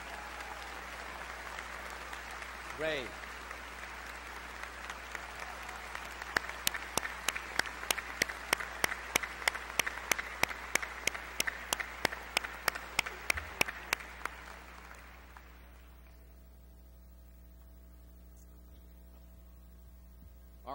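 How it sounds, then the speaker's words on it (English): Large commencement crowd at Northeastern's 110th ceremony giving a warm, sustained round of applause for a retiring professor, broad and steady over low hall hum with rhythmic unison claps joining midway, then fading; a voice speaks briefly. "Let's give him a warm round of applause."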